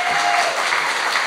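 Audience applause at a live talk event, a short burst of steady clapping from a full crowd, even and moderately loud, with no voices over it.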